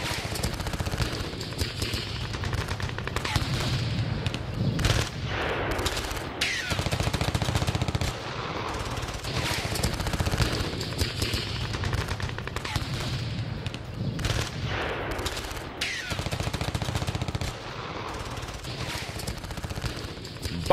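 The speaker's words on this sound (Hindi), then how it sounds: "रूसी सैनिकों और वोलाड बटालियन के बीच जबरदस्त गोलीबारी।" Heavy gunfire in battle at Bakhmut between Russian soldiers and a Ukrainian battalion: dense, continuous bursts of rifle and machine-gun fire with sharp cracks throughout, loud and close, with no pauses between volleys.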